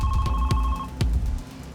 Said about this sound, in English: and her phone rang